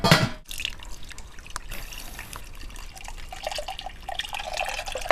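Beer mash liquid draining through the filter between the two levels of a home-brewing bucket, separating the barley: a steady close trickle and drip of liquid running on without pause, with no talking.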